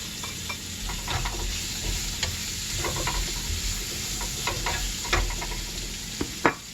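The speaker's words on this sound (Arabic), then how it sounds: "نشحر دابا البصله، ندير عليها شويه ديال الملح شويه ديال البزار" Onion frying in a pan with salt and pepper, a steady close sizzle broken by scraping stirs and a few sharp clinks of the utensil near the end.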